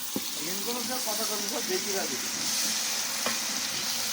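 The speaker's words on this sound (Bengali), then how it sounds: "সুন্দর করে এবার নেড়ে নেব।" Chicken khichuri, made with 3.5 kg of rice and 2.5 kg of chicken, is stirred as it fries in a large pot over a village wood fire. A close, continuous sizzle runs under a person's speech, with a few scraping stir strokes.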